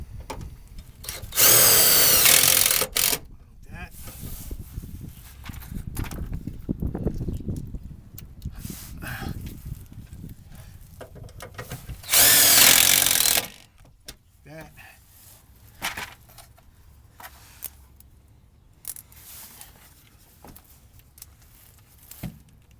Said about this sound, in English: We're going to be screwing into the back of the rocker panel and then into this stiffener bar with the same type screws with a washer.